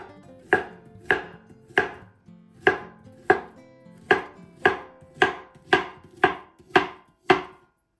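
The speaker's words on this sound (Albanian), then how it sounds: "Gjithashtu për këtë recetë do të na duhen 2 banane mesatare, të cilat do të presim siç e shikoni në video." A knife cuts through two medium bananas on a board in a brisk, regular series of about a dozen crisp chops, close and clear with no voices.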